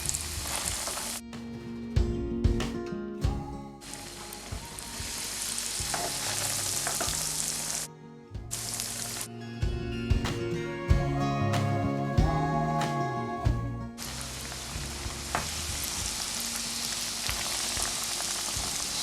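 Chicken chutney kebabs shallow frying in hot oil on a low to medium flame, a steady close sizzle and crackle with brief gaps and some stirring or handling noises.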